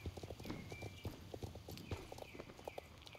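Horse hooves walking in the video game Star Stable Online, a steady clip-clop of hoofbeats at a walking pace, fairly quiet, over soft game ambience with a faint snort.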